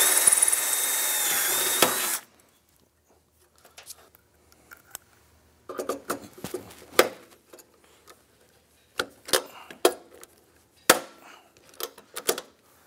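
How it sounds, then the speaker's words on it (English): Power drill bores through rivet locations on a snowmobile intercooler box on a turbo Ski-Doo: a brief loud whine up front, then a series of short clattering bursts and knocks, close and without talk. "finish drilling through the rivet locations, and I will install my 3/16 inch rivets"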